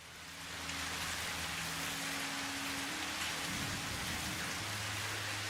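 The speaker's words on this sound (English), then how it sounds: "Alright, we've got a thunderstorm going on." Steady, dense rain from a thunderstorm in the video game Satisfactory hisses evenly, with a low continuous drone underneath and no voices.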